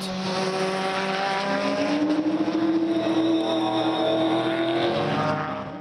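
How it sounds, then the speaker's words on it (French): A Mark Focus V8 race car of VDS Racing Adventures lapping the track during a Hundred Series endurance round, its engine a loud, sustained, rising roar held close throughout. "Raphaël van der Straten passait à l'offensive avec la bien connue et toujours superbe Mark Focus V8 VDS Racing Adventures"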